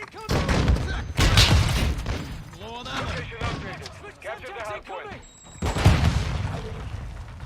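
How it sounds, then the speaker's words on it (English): Explosive bursts from a flash grenade in Call of Duty Modern Warfare II, a heavy blast near the start and another toward the end, amid crackling gunfire and game chatter between them. "Throwing flash grenade!"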